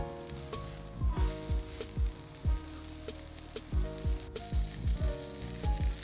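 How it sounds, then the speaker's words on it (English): Pieces of pork belly for chashu sear in a hot pan, giving a steady background sizzle broken by repeated sharp crackles and pops of spitting fat, close and moderately quiet, with no voices. "we're just gonna put it into a hot pan and kind of sear off some of the fat"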